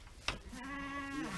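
Ewes bleat in a lambing pen: one sharp, short cry, then a long wavering bleat that carries on to the end, fairly close against a quiet barn background.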